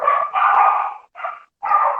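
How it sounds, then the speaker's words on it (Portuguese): Small dog barking indoors, a few sharp yappy barks in quick succession with brief pauses, close and clear with no talk. "O cachorrinho está participando."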